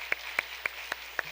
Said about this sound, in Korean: 박수로 맞이하시죠